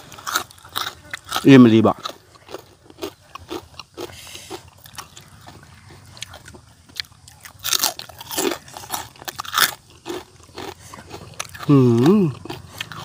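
Crispy pork cracklings and duck eggs eaten with spicy papaya salad, with crunchy bites and chewing heard up close under Thai conversation and occasional exclamations.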